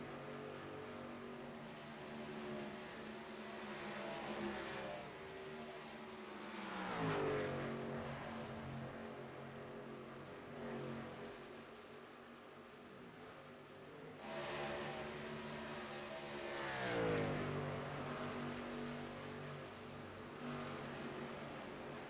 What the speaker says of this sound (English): Doesn't sound like he's lifting at all as he's keeping that truck almost wide open all the way around